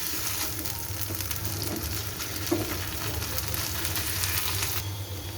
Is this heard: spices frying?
yes